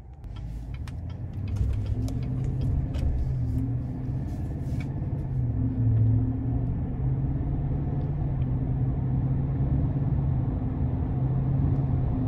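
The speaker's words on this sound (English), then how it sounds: "take this 2022 Sierra 1500 Limited Denali out on the road for a quick test drive" A 2022 GMC Sierra 1500 Limited Denali pickup with the 6.2 engine drives on the road, a steady low engine and road rumble heard from inside the cab, with faint clicks and rattles early on.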